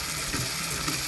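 A slot car tire truing machine runs with its motor and cam turning together, giving a steady, close mechanical whir with a faint ratcheting texture that holds at an even level throughout.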